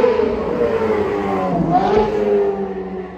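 A Ford Maverick with a 302 V8 revs up loudly and close, the engine note climbing, dipping mid-way and rising again in a throaty, sustained roar.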